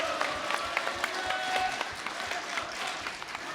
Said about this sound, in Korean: 뜨거운 박수 여러분은 더 격려해 주시면 감사하겠습니다